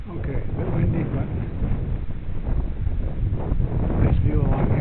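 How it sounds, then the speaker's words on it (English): Steady, gusty wind buffets the microphone on a coastal walk between Watson Bay and Coogee, a loud rumbling roar that swells and dips throughout. "a bit windy"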